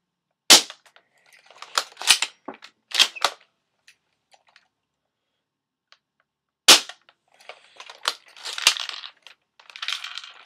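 A UHC R700 airsoft sniper rifle being loaded and fired, sharp close snaps and clicks of the bolt and shot, a few separated bursts of mechanical clatter with quiet gaps between.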